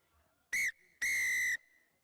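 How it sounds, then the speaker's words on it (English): The referee blows the final whistle at a rugby sevens match, Tunisia against Botswana at the 2019 Africa Sevens in South Africa: a short shrill blast, then a longer one, loud and clear with no voices over it. "And there is the final whistle."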